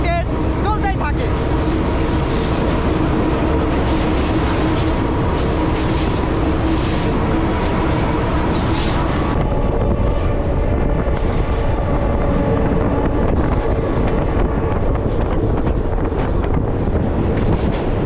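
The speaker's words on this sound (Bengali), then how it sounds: "রাত দিন সবসময় কিন্তু ট্রেন চলতেই থাকে।" A local train on the Poradah to Kushtia line rumbles past at close range, a loud, continuous roar of wheels on rails with squealing metal and heavy wind buffeting the microphone throughout.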